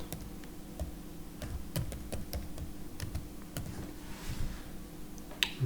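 Bursts of typing on a computer keyboard, quick clicky keystrokes in uneven runs, close and fairly quiet, with no voices.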